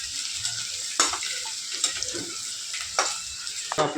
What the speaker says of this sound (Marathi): मस्तपैकी कांदा परतून घ्यायचा ब्राऊन होईपर्यंत